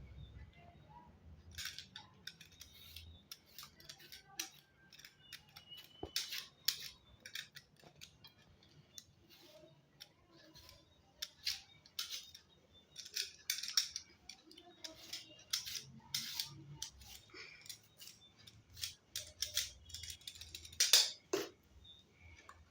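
A cucumber being cut with a knife on a board, a scattered series of crisp, quiet slicing clicks and taps, faint against a hushed room.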